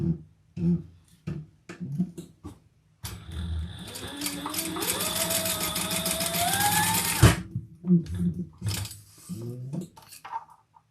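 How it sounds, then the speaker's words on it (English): Sewing machine stitching through both layers of a tab on a crossbody bag, a sustained rising mechanical whir lasting several seconds, close and loud, framed by short bursts of handling noise and fabric movement before and after. "stitch through both layers on that tab"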